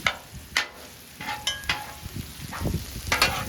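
Chopped top sirloin sizzles on a griddle for a chopped cheese sandwich, with a steady frying hiss broken by repeated scraping and clacking spatula strokes as the meat is chopped and turned.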